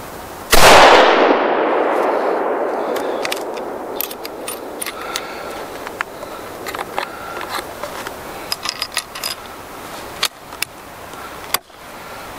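A single loud rifle shot from a HEYM-built Ruger No. 1 single-shot rifle cracks sharply and rolls away in a long fading echo. Small clicks and handling knocks come after it, with one more sharp snap near the end.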